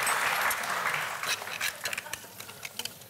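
A studio audience on a TV cooking show claps loudly at first, then the applause thins into scattered, fading claps.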